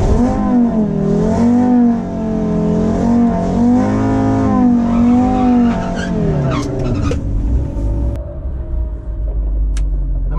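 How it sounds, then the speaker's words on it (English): A Stage 2 tuned car does a long burnout before a drag race, its engine held at high, wavering revs with tire squeal for about six seconds, then dropping to a deep idle rumble with a few clicks. "That might have been the longest burnout I've ever done"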